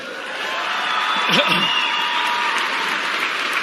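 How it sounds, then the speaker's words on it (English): Stadium crowd at the Australian Swimming Trials cheering and applauding a swimmer, a steady wash of clapping and whoops, with a few louder shouts near the middle. "to have a stadium full of people cheering you on"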